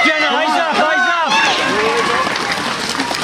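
Crowd roaring and shouting at a girls' cross-country championship race, a loud continuous swell of many voices close by with individual shouts rising above the din.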